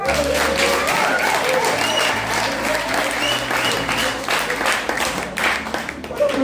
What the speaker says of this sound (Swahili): Piga makofi vizuri na furaha.